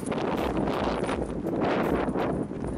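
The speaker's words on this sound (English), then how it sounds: "It's very blowy, so I'm not wearing the hat because it just blows off." Strong gusty wind blows across the Arizona desert, roaring against the microphone in loud, continuous buffeting waves.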